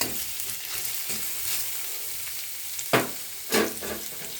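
Vegetables sizzle in hot oil for Karnataka-style veg fried rice, a steady crackling fry close by, broken by two sharp stirring scrapes near the end, with no talk.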